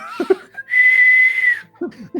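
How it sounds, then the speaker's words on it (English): A whistle is blown in one steady, sustained high tone lasting about a second, with brief bits of voice just before and after it. "I'm blowing my whistle."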